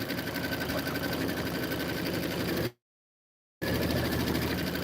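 An embroidery sewing machine stitches out an autumn border design in a large 16.5-inch hoop, a steady, loud mechanical whir that runs evenly, breaks off into total silence partway through, then resumes.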